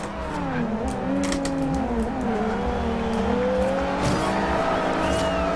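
A car in Forza Horizon 2, driven with a Thrustmaster TX wheel on Xbox One, spins its wheels and squeals its tyres with heavy oversteer; continuous engine drone with wavering pitch and a sharp tyre screech running throughout.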